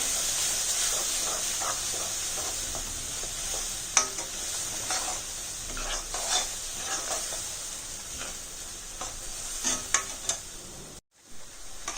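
A ground masala paste fries in hot oil for a pumpkin curry, hissing and spattering steadily with frequent spoon scrapes and taps, then briefly cutting out before resuming.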